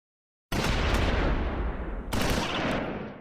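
Sustained gunfire in a Close Combat 4 Battle of the Bulge battle at Esch-sur-Sûre, December 1944: a loud, dense crackle of overlapping shots that starts abruptly, then a second burst cuts in partway through.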